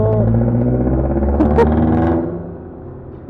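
Subaru car engine idling with a rough, harsh, jeepney-like drone, a loud steady low rumble with some clattering that eases toward the end.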